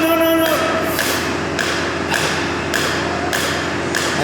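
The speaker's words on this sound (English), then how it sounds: "Let the weight of the hammer do the work." A hammer strikes about six times in a steady rhythm in a machine shop during a CNC machine delivery, the blows even and close over constant background noise.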